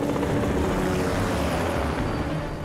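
A helicopter in an episode of The Flash TV series gives a dense, loud, continuous rotor and engine roar with no breaks.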